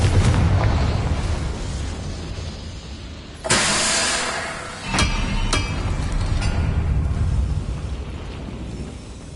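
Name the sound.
Confringo fire blast spell explosion in video game Hogwarts Legacy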